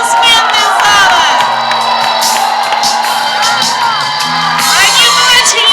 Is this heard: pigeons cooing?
no